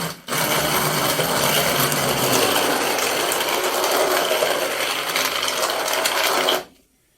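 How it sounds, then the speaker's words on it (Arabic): Hand mixer whirring through a thick, concentrated tamarind drink, a steady loud motor buzz running for about six seconds before cutting off abruptly. "ممكن اديله ضربتين بالهاند ميكسر كده."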